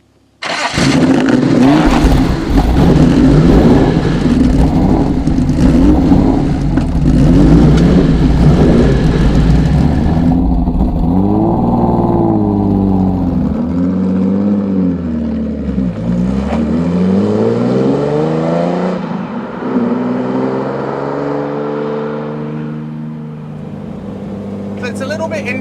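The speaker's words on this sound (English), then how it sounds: "when you start it up, the engine is loud" A Jaguar E-Type Lightweight engine starts loud and close, revving hard at first, then settling into rising and falling revs as the car drives, the tone sweeping up and down through gear changes.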